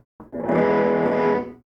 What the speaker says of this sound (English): When engaged, this increases the amount of distortion coming out of the amp